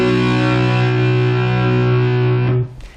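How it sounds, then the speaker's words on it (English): An electric guitar power chord of two notes rings through an amplifier with distortion, loud and sustained for over two seconds before being muted abruptly. "Now obviously I've got the distortion on my amp"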